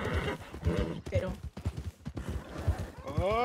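Horse hooves and whinnying from a horse in Red Dead Redemption II, with clopping steps and a neigh near the end, under steady overlapping talk from players.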